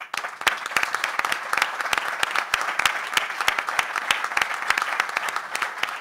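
Enthusiastic applause from a large audience at a football-related gathering in Tetuán, steady dense clapping sustained throughout, loud and close with no pauses.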